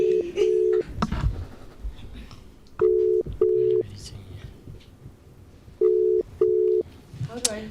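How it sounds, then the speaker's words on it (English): A telephone ringback tone on an outgoing call sounds in paired double rings, three cycles repeating at a steady interval, with faint voices murmuring between the rings. "let's try to call her again and see if it's ringing"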